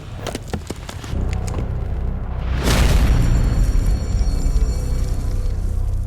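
A holy bell cracks and explodes with a deep, heavy boom that swells into a long, loud rumbling roar after a few sharp crackling hits, in a fantasy setting.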